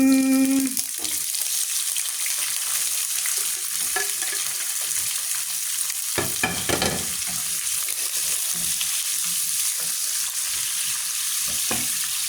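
Onions frying in oil with fenugreek and cumin give a steady, close sizzle that runs throughout, with a few brief stirring scrapes and no voices.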